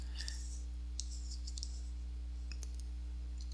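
Faint, sparse clicks of buttons being pressed and keys tapped on a phone emulator, a few scattered taps over a steady low electrical hum, with no speech.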